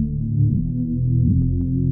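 A deep, low synth drone, dropped an octave and stretched by a halftime effect, holds sustained notes that slowly bend and glide downward, thick and steady throughout with no other sounds.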